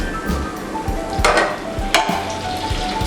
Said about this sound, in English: Take a skillet, add some oil and some butter.